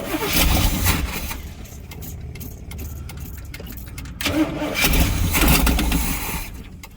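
A motorhome engine being cranked over and over, with rough, loud grinding bursts that rise and fall between brief lulls, heard up close as it struggles to catch.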